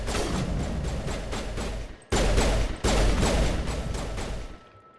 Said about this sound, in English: Let's make that sniper rifle pay off.